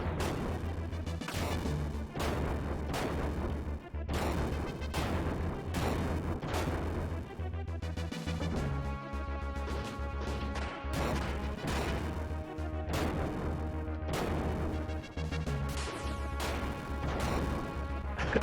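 Retro game explosions from destroyed enemies in Front Mission: Gun Hazard, a steady run of loud crunchy blasts and thuds over chiptune-style music throughout.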